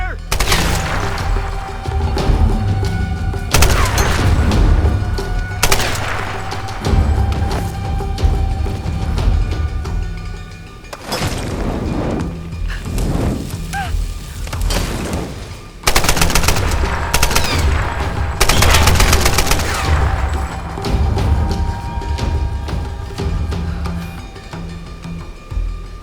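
Tomb Raider (2013) gameplay gunfire as Lara shoots: loud rapid automatic bursts and booming shots repeat over about 26 seconds, with brief lulls between volleys.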